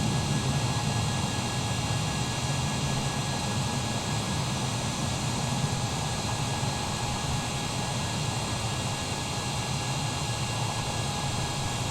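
Boeing 787 jet engines roar in a flight simulator, a steady, loud broadband rumble and whine that holds without letup.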